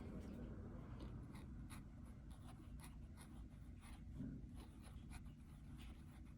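Fude nib fountain pen writing on paper, a steady close scratching and scraping of the nib across the sheet, continuous and even throughout with a faint low hum behind it.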